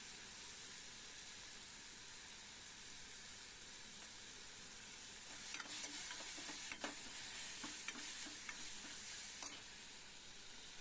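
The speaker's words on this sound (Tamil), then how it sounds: "கொஞ்சம் மஞ்சத்தூள், இஞ்சி பூண்டு தட்டி வச்சுருக்கோம், அதையும் போட்டு நல்லா வதக்குவோம்." Turmeric and crushed ginger and garlic fry in a pan with a soft, steady sizzle, then a cluster of scraping, clinking stirs against the pan partway through before the quiet hiss resumes.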